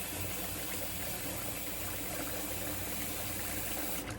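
Hot water runs steadily from a tap before a wet shave, a constant close hiss and splash that keeps going unbroken throughout.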